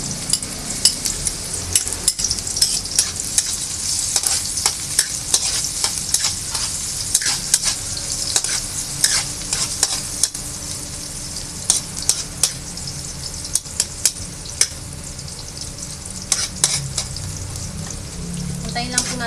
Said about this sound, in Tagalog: Ngayon po magigisa na ako ng bawang at sibuyas.